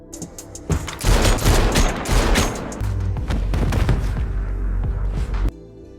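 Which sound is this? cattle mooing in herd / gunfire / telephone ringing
gunfire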